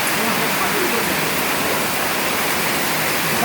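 Heavy rain pours down in a steady, dense roar that is loud and constant throughout, with no breaks.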